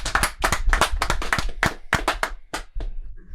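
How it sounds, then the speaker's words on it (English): A few people clap in a studio sports talk show setting, a short burst of sharp, uneven hand claps close to the mic that thins out toward the end. "Round of applause, Barstool Sports."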